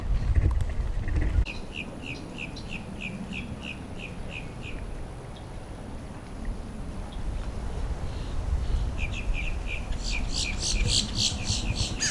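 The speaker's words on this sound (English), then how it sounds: "Couple birds passing by." Short bursts of high chirps repeat in quick series over a steady outdoor rumble in a park, birds passing nearby, fading and returning toward the end.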